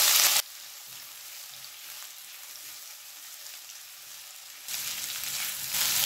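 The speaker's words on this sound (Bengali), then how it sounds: "গ্যাসটাকে এবার হাই ফ্লেমে রেখে 2 থেকে 3 মিনিট ভেজে নেব।" Boiled potatoes frying in oil on a high flame with nigella seeds and dried chili, a steady soft sizzle that opens and closes with louder bursts of crackling.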